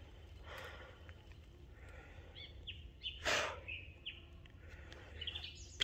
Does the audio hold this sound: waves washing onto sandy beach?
no